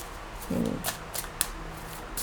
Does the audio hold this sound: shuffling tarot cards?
yes